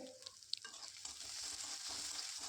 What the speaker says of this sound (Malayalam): പച്ചമുളക് ചേർത്ത് നല്ലോണം ഒന്ന് ഇളക്കിയതിന് ശേഷം